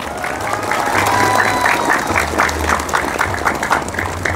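An audience at an Indonesian talk about Madura breaks into steady applause, a dense wash of many hands clapping close and loud for several seconds, with a voice speaking underneath.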